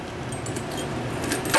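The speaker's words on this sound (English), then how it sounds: "You've got your keys here for the camper itself." A bunch of keys for a 2022 Grey Wolf 26RR camper jangles and clinks steadily for under two seconds, metal rattling close by with a brighter clatter at the end.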